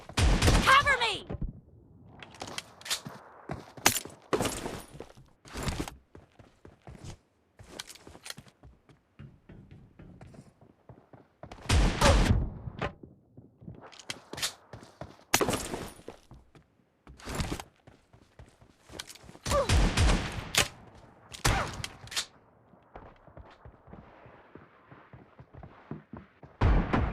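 Shotgun blasts in a 1v1 video game duel, with loud sharp reports scattered irregularly across the stretch, some in quick clusters, separated by quieter gaps of footsteps and game noise.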